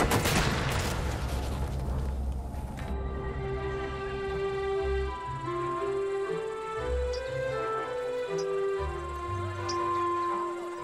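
A firing squad at a Mexican execution fires a sharp, crackling rifle volley that opens loud and close, followed by a sustained ringing tonal wash as the burst dies away.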